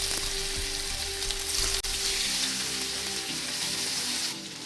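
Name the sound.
marinated raw banana frying with mustard seeds, fennel, curry leaves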